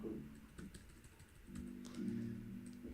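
Computer keyboard typing while web page text is entered, a run of light, uneven key taps close by, steady and fairly soft throughout.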